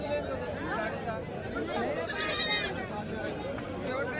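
Goat bleats rise from a busy village livestock market in Chalisgaon, Maharashtra, under constant crowd chatter and nearby talking, with a couple of cries standing out mid-clip.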